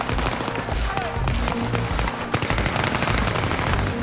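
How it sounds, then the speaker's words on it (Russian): Rapid bursts of automatic gunfire in a video game squad rush match, loud and close, with repeated shots layered over running footsteps and game noise while players talk over it. "Начинаем стрелять."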